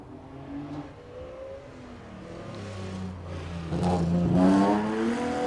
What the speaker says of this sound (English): Now we've got Chris Whitaker up next in the another 240Z.